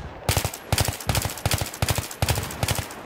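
Machine gun fire in Battlefield 3 played on a PS3 comes in short, loud, rapid bursts of a few rounds each, repeating about every half second with brief gaps between them.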